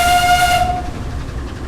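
A steam locomotive whistle on the Corris narrow-gauge railway in Train Simulator 2017 sounds one loud, sustained tonal blast that cuts off sharply, leaving the rumble of the moving train.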